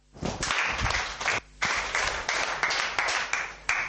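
An audience claps during a tai chi and qigong session, loud and close, with bursts of clapping broken by a brief pause midway and then resuming in uneven rhythmic rounds.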